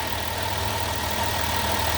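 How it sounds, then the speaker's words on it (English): A 2007 Dodge Caravan engine idling steadily, a constant low hum and hiss heard close up with no change in speed and no voices. "The engine's running, obviously."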